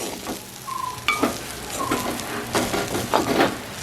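Grated coconut roasts in a pan for a plantain dish, giving a steady soft sizzle broken by irregular scraping stirs and a few faint clinks.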